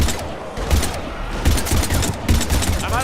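Heavy gunfire in the video game Mass Effect 3, with dense bursts and repeated loud shots over a continuous battle din, steady and close throughout.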